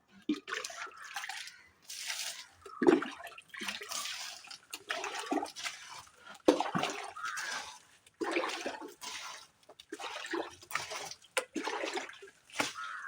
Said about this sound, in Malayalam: നമ്മള് വെള്ളം വറ്റിക്കാൻ പോവാണ്